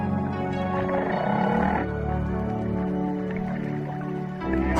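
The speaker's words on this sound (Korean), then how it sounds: "혹등고래는 대형 고래 중에서도 가장 아름다운 화음을 뽐낸다." Humpback whale song on the Great Barrier Reef carries as long, tonal moans and rising calls, layered and resonant, sustained through the stretch with a brief break near the end.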